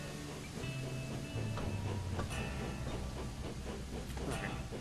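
A train in a Thomas and Friends railway video game backs up amid a dense wash of rumble, hiss and mechanical clatter that stays loud and steady throughout.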